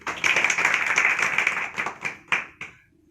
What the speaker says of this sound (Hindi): आप सबके लिए एक बार जोरदार तालियां हो जाए